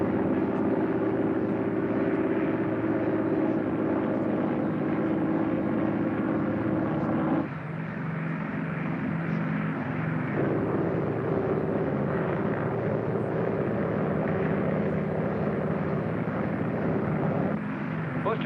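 Piston aircraft engines droning steadily in flight before landing in a 1950 transport plane, a loud continuous broadband roar that shifts slightly partway through, close inside the cabin.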